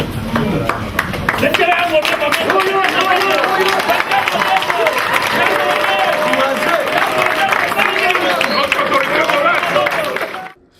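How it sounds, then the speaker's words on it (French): A crowd in a packed, electrified hall gives rolling applause for a politician's entrance, loud continuous clapping mixed with cheering and crowd hubbub, with a voice talking over it throughout. "accueilli par des salves d'applaudissements, fait son entrée dans cette salle comble et électrisée"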